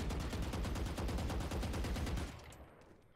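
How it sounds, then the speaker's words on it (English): Rapid automatic gunfire in the video game Valorant while the player walks and shoots, a dense, evenly spaced burst of loud shots lasting about two seconds, then stopping abruptly into a fading tail. "you'll see how inaccurate it is when I walk and shoot."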